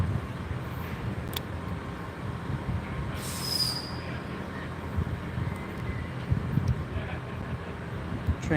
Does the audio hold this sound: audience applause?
no